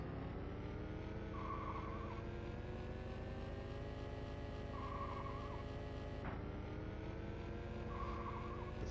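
Race car engines from a NASCAR racing video game drone steadily and loudly throughout, layered with pitch-shifting whines as the cars run laps.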